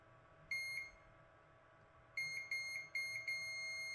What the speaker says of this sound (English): we'll just do a continuity test there just to make sure